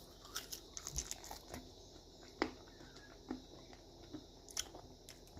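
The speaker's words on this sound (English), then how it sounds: "Crunchy and sweet." Close, quiet chewing of crunchy dehydrated lilly pilly berries, with scattered small crunches and bites over a faint background hiss.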